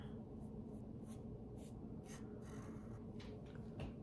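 A pencil scratches and rubs on paper in short, close strokes while a zebra drawing's eyes are touched up, quiet and even with no voices.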